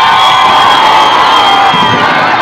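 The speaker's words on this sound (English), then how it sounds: "Let's give a big round of applause to all the graduates." Loud crowd cheering and whooping for graduates at a graduation ceremony at Levy Mwanawasa Medical University, dense and steady with high shrill voices over a continuous roar.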